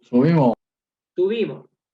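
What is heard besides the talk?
No everyday noise stands out behind the speech.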